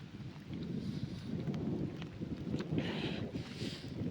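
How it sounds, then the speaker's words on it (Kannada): A heavy monsoon hailstorm pours down on a village, flooding the fields. It makes a dense, continuous roaring wash of rain with gusty wind rumble, fairly quiet and distant, and no voices. "ನಮ್ಮೂರಾಗ ಫುಲ್ ಅನಿಕಲ್ ಮಳೆ ದಾರೆಗೆಲ್ಲ ನೀರು ಗದ್ದೆಗೆಲ್ಲ ನೀರು"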